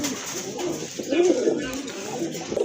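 Pigeons held for sale coo in low, murmuring bursts, close but partly buried in a steady background hum and rustle.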